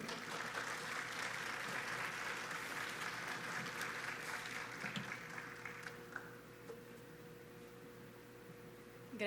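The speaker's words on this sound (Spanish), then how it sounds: "Uma salva de palmas, por favor" Conference audience gives steady, even applause for speaker Diana Guzmán Barraza before her talk on sustainable cities, the clapping thinning out and fading toward the end.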